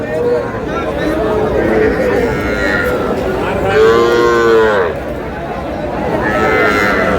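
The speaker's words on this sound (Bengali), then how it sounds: "যেদিকে তাকায় সেদিকে শাহিওয়াল গরু, শাহিওয়াল গরু।" Sahiwal cattle moo loudly at a crowded cattle market in Manikganj, one long drawn-out call rising clearly over steady crowd chatter and nearby voices talking throughout.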